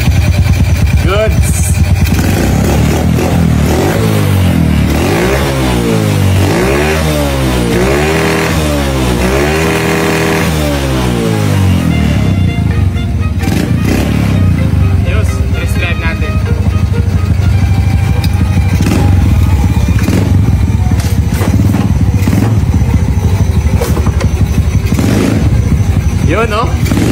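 Tuned motorcycle engine revving hard and accelerating, loud and close throughout, with rising and falling rev sweeps mid-clip, then sustained high-revving roar with continuous engine drone.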